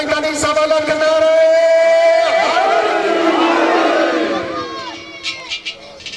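A crowd chanting slogans at a Pothwari sher poetry contest, a loud massed roar of voices swelling together and then fading into scattered shouts.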